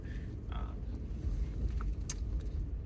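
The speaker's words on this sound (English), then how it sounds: "There's a lot of tire noise right now" Steady low road and tire rumble inside a Nissan Xterra while driving, constant and fairly quiet, with a few small jangling clicks over it.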